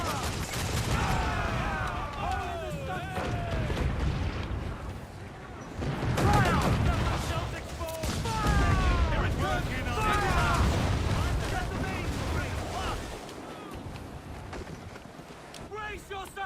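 Ship cannons fire a broadside in the video game Assassin's Creed IV: Black Flag: loud, booming bursts and rumbling blasts rise and fall through the scene, mixed under near-constant shouted crew voices.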